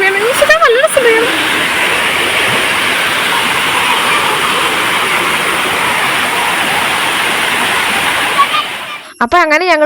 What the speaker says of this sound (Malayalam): ഇതാണ് കേട്ടോ ഞങ്ങളുടെ വെള്ളച്ചാട്ടം. അടിപൊളിയാണ്.